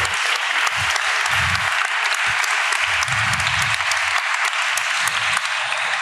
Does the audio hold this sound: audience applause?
yes